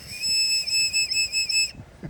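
A dolphin whistle is blown in one steady, shrill, high-pitched tone with a slight warble, held for under two seconds close by, then stopping abruptly; no talking.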